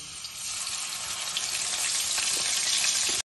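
Ginger and green chilli paste frying in hot oil gives a loud, continuous sizzle that swells slightly over a few seconds.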